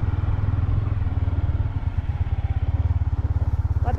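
Motorcycle riding on a snowy mountain road near Chopta: a loud, close, rhythmically pulsing engine throb that stays steady throughout with no talking.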